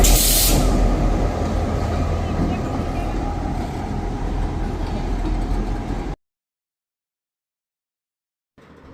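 The Kuranda Scenic Railway tourist train near Cairns runs with a loud, continuous rolling roar and a hiss at the start. The sound stops abruptly after about six seconds, and a brief burst of noise returns at the very end.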